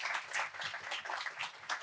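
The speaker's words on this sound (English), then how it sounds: "One more round of applause for Valerie." Audience applause at a panel event on the documentary development process, a dense wash of many hands clapping that stays fairly faint and steady throughout, with no voices over it.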